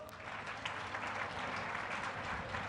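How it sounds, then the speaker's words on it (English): Audience at a World AIDS Day keynote address keeps up a round of applause, continuous scattered clapping from a crowded hall, steady and somewhat distant. "A round of applause."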